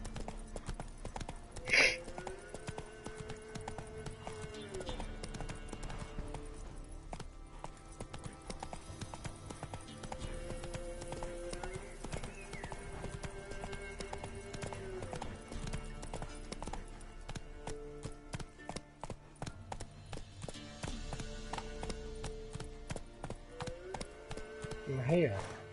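Rhythmic hoofbeats of the horse Roach galloping steadily in The Witcher 3 video game, a continuous clip-clop over background game music, with a brief louder burst early on.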